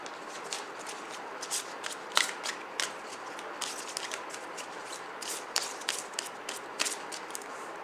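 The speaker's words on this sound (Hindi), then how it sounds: "चलिए एक मास्टर कार्ड निकाल लेते हैं." Tarot cards being shuffled during a weekly horoscope reading, a steady run of soft riffling snaps and flutters, close and fairly quiet, with no talking.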